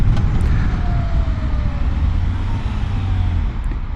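A Honda Hornet 1000 SP motorcycle engine drones steadily at speed, a loud continuous low rumble with a faint rising whine from the ride.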